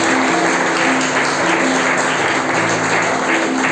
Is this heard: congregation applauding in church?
yes